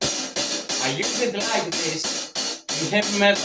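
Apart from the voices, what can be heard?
No distinct noise like a dog, phone or traffic.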